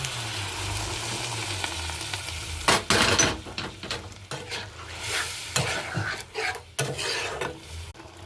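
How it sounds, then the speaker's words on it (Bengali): Spices are sautéed with potatoes, peas and their cooking water in a pan, soft sizzling under repeated scraping, stirring strokes of a spoon, close and moderately loud. "মটরের যে জলটা আছে সেটা আর আলুটা দিয়ে একটুখানি কষিয়ে নেবো মশলাটা।"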